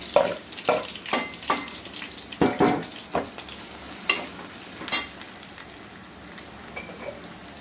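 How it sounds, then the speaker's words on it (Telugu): A quarter kilo of onions fries in a pan for a farm chicken curry, a constant sizzle broken by a series of sharp stirring scrapes that fade toward the end, heard alone without talk. "నేను ఉల్లిపాయలు పోసాను"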